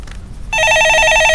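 Telephone ringing with an incoming call during a live stock-market call-in show: a loud, close electronic warbling ring starts abruptly after a moment of quiet and continues steadily.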